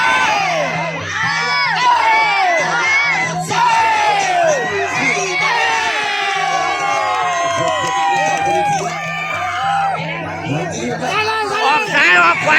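A crowd at a Thai boxing match cheering continuously, a dense wall of shouts, whoops and high-pitched voices rising and falling in waves, loud and close, with a rhythmic drumming beat underneath.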